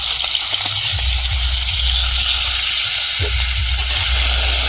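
Loud, continuous sizzling of hot oil in an iron wok over a small village stove, a dense steady hiss with a low rumbling undertone.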